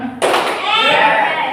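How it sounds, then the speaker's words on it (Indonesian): A group of students in a classroom claps once together, a sharp loud burst followed by a ragged smear of overlapping hand claps and a shouted response from the class. "Kalau Bapak tanya kelompok 1, itu tepuk sekali, yes-nya sekali."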